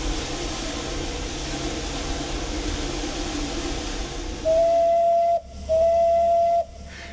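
Steam whistle of the Trochita, the Old Patagonian Express narrow-gauge steam locomotive, blowing two loud sustained blasts with a short break between, over a steady broad hiss of escaping steam.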